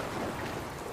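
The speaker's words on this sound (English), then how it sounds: "Where did this rain come from?" Rain in the video game Dragon Quest Builders 2 falls as a soft, even hiss that holds steady throughout, quiet and alone without voices.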